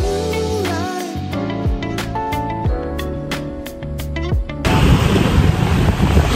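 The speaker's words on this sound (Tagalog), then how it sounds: "nandito po ako ngayon sa tabing dagat" Ocean surf at a seashore rushes in as a loud, steady wash of broadband noise over the last couple of seconds, following a stretch of background music.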